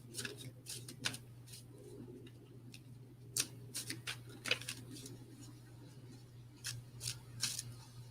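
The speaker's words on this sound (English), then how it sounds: "I'm shuffling the cards right now." A deck of tarot cards is shuffled close up in a quiet room, giving soft irregular riffling clicks and brief crisp flicks in scattered bursts over a low steady hum.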